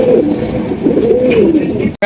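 A pair of Filback pigeons coos steadily and continuously from close by, soft throaty calls overlapping with faint chirps in the background.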